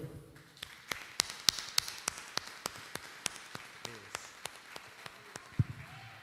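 A church congregation at a family worship service claps in a steady, even rhythm, crisp beats repeating about three times a second. It sounds somewhat distant and fairly quiet over a light room murmur.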